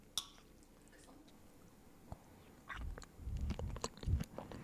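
Salmon kkakdugi cubes, a trendy dessert-style dish, are chewed close to the mic: a few soft bites at first, then dense, squishy, wet mastication building louder toward the end, with no talking.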